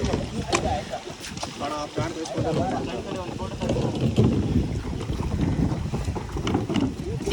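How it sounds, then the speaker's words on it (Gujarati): Water sloshes and splashes around a kayak being paddled under gusty wind noise at a beach in Goa, with people talking nearby throughout. "તો ભાઈ આપણે પણ બોટ લઈ લીધી છે અને ચાલુ કરી દીધું છે કાયાકિંગ."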